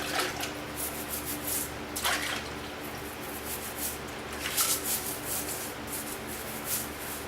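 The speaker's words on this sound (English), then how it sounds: "I'm going to go ahead and scrub that off real fast too" Rough scrubbing on a bathroom surface inside a shipping container home, repeated close rubbing strokes in short bursts over a low steady background hum.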